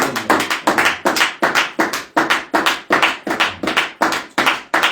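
Hands clap in rapid, ragged bursts within a church congregation, a dense and loud run of overlapping claps lasting several seconds, close and steady, with no voices over it.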